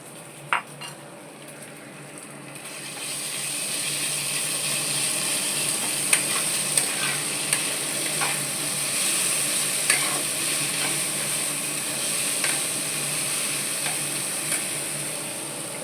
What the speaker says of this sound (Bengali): এই মাছটা যে ম্যাশ করে রেখেছিলাম, এই মাছটা এর মধ্যে দিয়ে একটু ভাজা ভাজা করে নেব